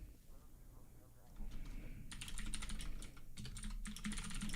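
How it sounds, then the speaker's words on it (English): Rapid clattering keystrokes from a mechanical keyboard, steady and fairly close, with a low background murmur underneath. "See, I hear typing."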